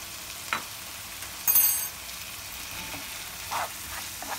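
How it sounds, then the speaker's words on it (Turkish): Ground spices such as black pepper and chili flakes stirred in a frying pan for moussaka, a faint steady sizzle broken by a few brief scrapes and clinks. "Karıştırıyoruz."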